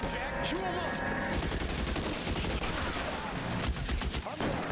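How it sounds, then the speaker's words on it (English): Shotgun blasts in the video game L.A. Noire, loud and dense amid continuous gunfire and game noise, with a voice talking over it. "the shotgun's loud as fuck"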